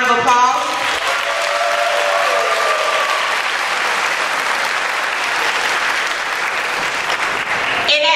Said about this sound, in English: give our students a round of applause.